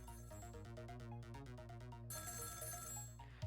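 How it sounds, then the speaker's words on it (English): Telephone ringing in the Ghost Trick: Phantom Detective video game, a repeated electronic ring in steady bursts over a game music bed, loud and close, with no talk. "The phone is ringing."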